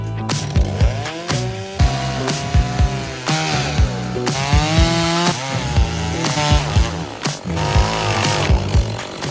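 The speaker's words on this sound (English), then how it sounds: "So what do you do when you get both chainsaws stuck?" A chainsaw revs loudly and unevenly as it cuts through wood while clearing land, engine pitch rising and dropping again and again with short bursts between cuts.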